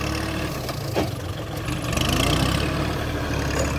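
A Kubota L4018 tractor engine runs while plowing a field, a steady low diesel drone with slight rises in revs, close and continuous.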